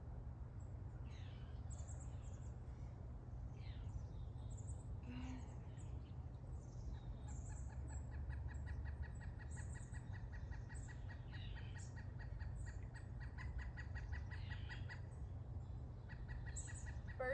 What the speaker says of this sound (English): Birds are talkative.